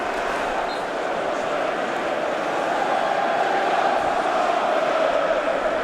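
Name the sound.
Hull City away fans cheering in stadium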